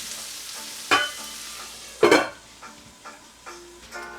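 Noodles and meat sauce are tossed in a hot pan for zha jiang mian, giving a few loud scraping, clattering strokes over a light background sizzle, with no voices.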